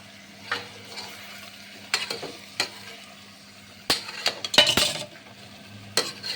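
Dondakai (ivy gourd) curry being stirred with masala in a pan, with scattered spoon scrapes and clinks against the metal over a faint background hum.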